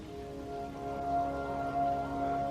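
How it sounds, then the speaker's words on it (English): Water from a waterfall on a desert mountain hiking trail flows in a steady, continuous rush, moderately close and unbroken throughout, with no talking over it. "And you can hear the water."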